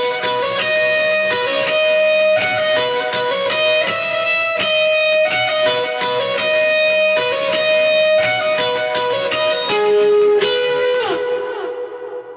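An electric guitar plays a bright, picked intro riff through effects, with sustained notes ringing together, chorus and echo shimmer, and a steady rhythmic pattern that fades into decaying reverb at the end.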